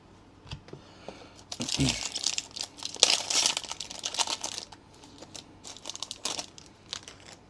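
Foil packs of 2024 Panini football cards from blaster boxes are torn open and handled, giving close, irregular bursts of crinkling and rustling with sharper tearing moments.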